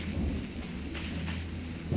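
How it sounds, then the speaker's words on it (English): Rain and thunder in the video game Wrongworld: steady hiss of rainfall with a low rumbling thunder underneath, continuous and fairly close, with no voices. "I don't know if rain does anything different."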